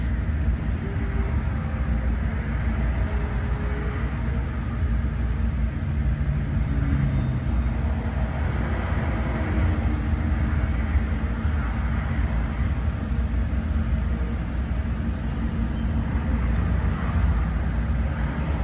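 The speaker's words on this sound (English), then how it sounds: "Road noise." Steady, loud road noise inside a car driving home from Gastonia, a constant low rumble and tire roar that holds unchanged throughout.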